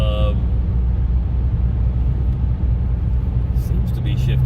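A car with an automatic transmission accelerates with a steady, loud, close engine rumble from inside the cabin, and the drone carries on without a clear break as it shifts gears.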